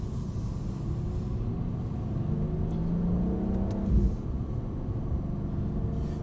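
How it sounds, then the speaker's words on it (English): A car slides down a loose surface with a steady, close engine rumble throughout, the revs swelling briefly partway through before settling back. "we can get the car sliding the whole way down"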